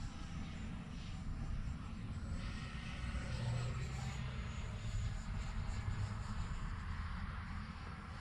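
A small Marlin jet in flight, its engine a steady, loud low drone inside the cabin with a faint higher whine running over it and no break for the whole stretch.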